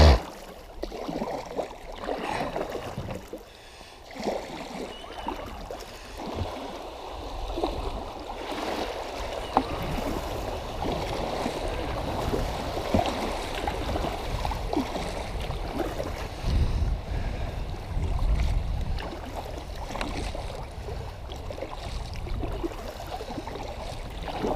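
Kayak moving along a river, with continuous rushing water and wind noise and irregular splashy paddle strokes, close and fairly loud throughout.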